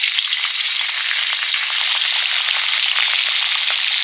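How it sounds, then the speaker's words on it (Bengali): Prawns skewered on coconut-leaf sticks fry in hot oil in a pan, a loud, continuous close-up sizzle with crackling spatters throughout and no voices. "সবগুলো চিংড়ি মাছে নারকেল কাঠি ঢুকিয়ে দিয়েছি এবারে ভাজবো"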